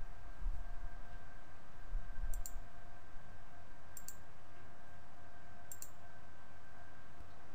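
Mouse clicks on software dialog buttons while working in AutoCAD's View Manager: three brief, faint clicks spaced evenly over a steady background hiss, with no talking.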